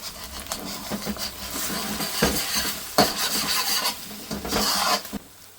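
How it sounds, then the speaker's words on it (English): Onions are stirred into egg sizzling in a frying pan for takeaway-style egg fried rice, with a continuous scraping and rasping of the utensil over a steady sizzle, close and fairly loud. "Next, you can stir the onions into the egg"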